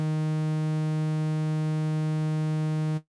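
A steady, static synthesizer tone from the Zebralette 3 soft synth with spectral distortion switched off, holding one bright harmonic pitch at constant loudness for about three seconds before cutting off cleanly.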